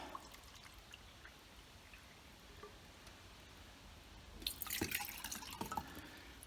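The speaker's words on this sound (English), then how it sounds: "let's get the water in our pot" Water is poured into a small cooking pot for a butane cartridge camp stove, starting as faint drips and swelling into a brief splashing pour near the end, close and quiet with no voices.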